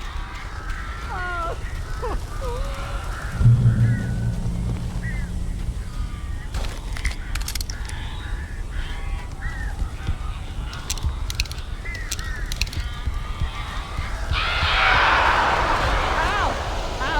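Crows caw repeatedly from within a cabin in the video game Alan Wake, harsh calls scattered through the scene over game ambience, music and brief muffled voices, with a louder flurry near the end.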